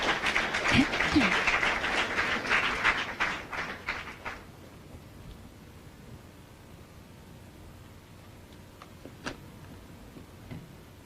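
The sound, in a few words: audience applause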